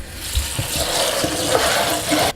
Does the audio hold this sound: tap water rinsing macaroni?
yes